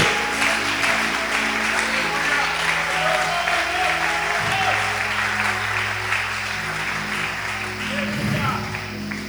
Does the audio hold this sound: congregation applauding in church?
yes